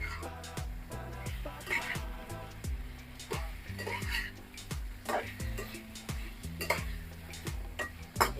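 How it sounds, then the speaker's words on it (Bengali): Paneer (chhana) being stirred into a pan of tomato sauce, with a steady series of utensil scrapes and clinks against the pan and faint sizzling underneath, close and continuous. "এবার আমি দিয়ে দিব ছানা দেওয়ার পরে ভালো করে মিশিয়ে দিতে হবে।"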